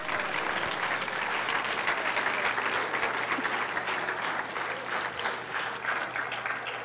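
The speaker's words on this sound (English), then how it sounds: "So please give them all a round of applause" Sustained audience applause at a community college student achievement awards ceremony, even and dense clapping from a crowd throughout.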